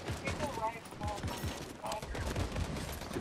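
Gunfire in the video game Fortnite, with a couple of sharp shots and scattered clatter mixed into game noise while a person talks over it.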